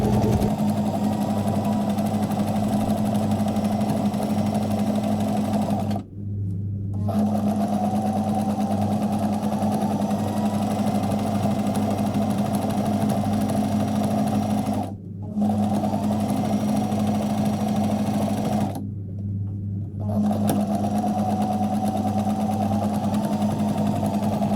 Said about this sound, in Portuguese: Vou costurar daqui do início até o fim, retrocesso no início e no final